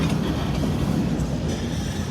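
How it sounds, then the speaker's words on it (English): Train rolling along a siding in Indiana or western Kentucky, a continuous loud rumble of wheels on rail with faint clatter, steady and fairly close. "it looks like we got another train coming up on the siding"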